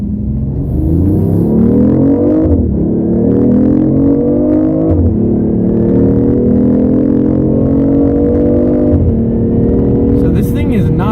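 A BMW i8 hybrid pulls hard in sport mode, its engine note climbing loud and close through several rising gear sweeps, each shift dropping the pitch before it climbs again, with a voice speaking over the run.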